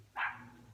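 A single dog bark, loud and close, a short burst at the start followed by a fading tail over low room hum.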